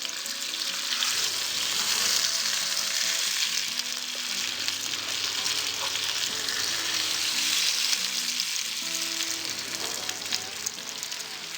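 Fish sizzles steadily in a frying pan for a Kerala fish curry, with a continuous close crackle of hot oil and no talking.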